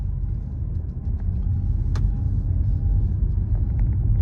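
A car engine with a stuck e-brake rumbles low and steady while driving, a dense, continuous bass drone with a brief faint click partway through and no speech.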